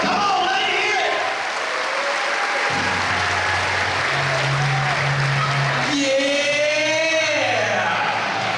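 A crowd in Chillicothe applauds and cheers as a singer is introduced at a school assembly, steady clapping mixed with shouts and a sustained tone, with a voice breaking in near the end.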